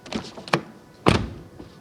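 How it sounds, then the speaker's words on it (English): A Mini John Cooper Works GP car door shuts with a solid, close thunk, preceded by a lighter click of the latch. "Door closing sound."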